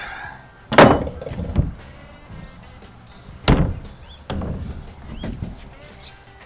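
The tailgate door of a homemade square drop camper swings and thunks shut, giving three heavy, close thuds spaced a couple of seconds apart with quieter rattles between them and a little talk.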